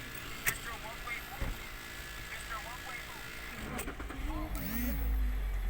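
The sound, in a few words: manual car engine starting and running during driving practice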